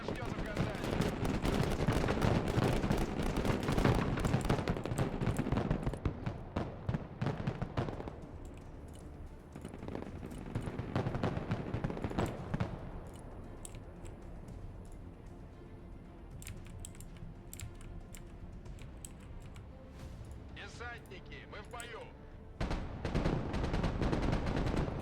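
An enemy gun fires in the Broken Arrow video game, with dense rapid bursts of automatic fire crackling at the start, a quieter stretch of low rumble in the middle and more shots returning at the end. Voices can be heard under the fire.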